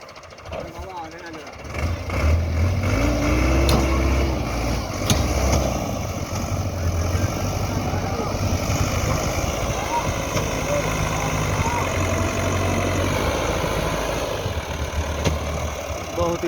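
A large tractor's engine drones steadily while pulling in a tractor pulling contest, a deep continuous rumble that swells slightly at times, with people talking over it.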